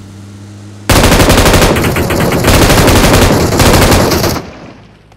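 Sustained machine gun fire in a mobile battle royale shooter, a dense rapid burst lasting about three and a half seconds with brief gaps, loud and close, ending abruptly with no talking.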